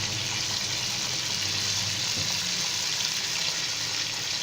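Chicken pulao masala, yogurt with red chilli and turmeric, frying in a pan, giving a steady, dense, close sizzle that holds at an even level throughout with no voices over it.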